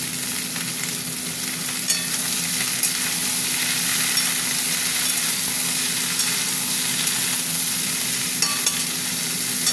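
Radish, pumpkin and potato fry in a pan with a steady, close sizzle that runs the whole way through, broken by occasional light clicks and scrapes of stirring. Nobody speaks.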